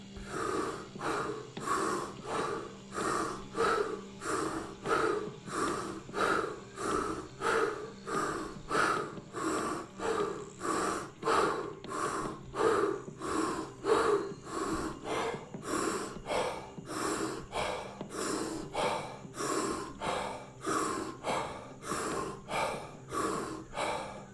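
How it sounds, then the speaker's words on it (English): Rapid rhythmic breathing during a breathwork exercise, a fast unbroken run of roughly two dozen forceful inhale-exhale cycles, close and steady with no talking. "Here we go with the rapid breathing."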